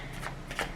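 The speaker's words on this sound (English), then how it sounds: "I want to pull some cards from the Sexual Magic Tarot deck." Sexual Magic Tarot cards being shuffled by hand, with two quick soft riffling bursts close by, faint and brief.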